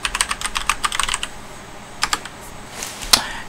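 Computer keyboard typed on to enter a username and password, a quick burst of close, crisp key clicks, then a pause and a few final taps.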